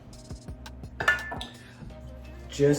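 Metal spoon tapping and scraping against cake pans as pecan cake batter is portioned in, a series of light clinks and knocks at a regular pace, up close in a quiet kitchen with brief soft talk.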